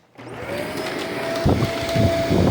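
Shark Vertex Speed Duo Clean vacuum cleaner switching on from silence and running steadily with a loud motor whine, its pitch and roughness rising slightly as it keeps going.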